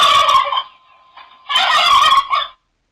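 A turkey gobbles loudly and close up in two rapid rattling bursts, separated by a short quiet gap, with no talking over it.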